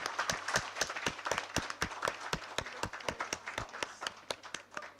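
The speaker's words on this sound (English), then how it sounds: "May we have a huge round of applause as our chief guest is cutting the cake of today's special occasion." A small audience claps at a foundation day celebration while the chief guest cuts the cake, sharp individual claps in a fairly regular rhythm, close and distinct.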